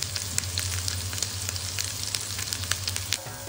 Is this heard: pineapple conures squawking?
no